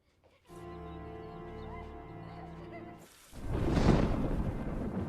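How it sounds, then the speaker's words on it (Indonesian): A low rumble of thunder rolls in at night, then heavy rain bursts in with a broad hiss that stays loud to the end. "Malam hari diselimuti hujan petir"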